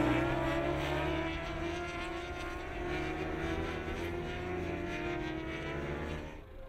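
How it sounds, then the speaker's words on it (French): Superbike motorcycles race at the Albi circuit, with a loud, sustained engine roar holding steady pitch bands that fades sharply at the very end. "c'est Axel Morin qui réalise le meilleur départ devant Leblanc et Muscat"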